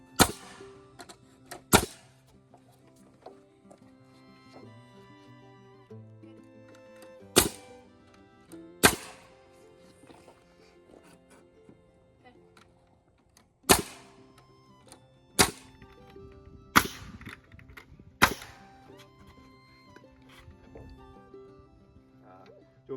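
A nail gun fires nails into framing during the building of a garage. About eight sharp, loud cracks come at irregular intervals, with quiet talk between the shots.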